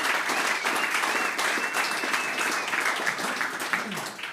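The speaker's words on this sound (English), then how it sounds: "If we could give Compass a round of applause here," Audience applause at a Bitcoin mining talk, a dense steady clapping from a crowd that holds at full strength for several seconds before slowly tapering.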